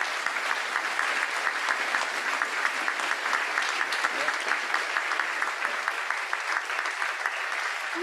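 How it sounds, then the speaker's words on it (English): Audience applause at the close of a keynote address, a dense, steady wash of many hands clapping that holds evenly for the whole stretch without any voices. "Nice round of applause."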